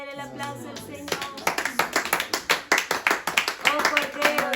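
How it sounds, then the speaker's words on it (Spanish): A church congregation applauding during worship, steady rhythmic clapping in unison that picks up after a moment, with music and voices carrying underneath. "denle el aplauso al Señor"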